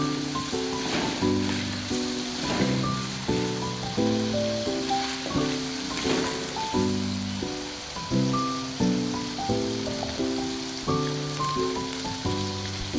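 Food fries in a pan with a continuous crackling sizzle, heard under a looping melodic music track that plays throughout.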